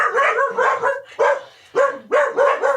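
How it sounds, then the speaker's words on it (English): A dog barks loudly and close up in four separate bursts with short gaps between them, each bark sounding slightly whiny and yipping, and no one talks. "That's Erin Drayton and my dog Knox, who desperately wanted to be part of this episode."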